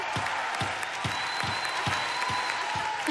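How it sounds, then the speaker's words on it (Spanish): Audience applause at a Got Talent Argentina audition for a freestyle football act, a steady wash of many hands clapping with rhythmic stomps or beats underneath, fairly distant and continuous. "No para de aplaudir."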